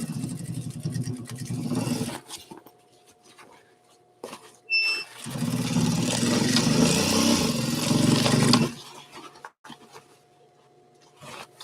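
A sewing machine races along a folded hem edge in two bursts of steady motor whir, a short run and then a longer, louder one of about four seconds, with quiet pauses around them.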